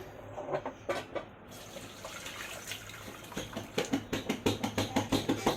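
Tap water runs into a sink while a frying pan is washed, a steady faint stream that turns into a quick series of rhythmic scrubbing splashes toward the end.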